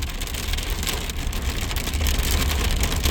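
Heavy rain and hail drumming steadily on a car during a storm chase in Cluculz, a dense, constant roar with a low rumble underneath, loud and close, with no talk.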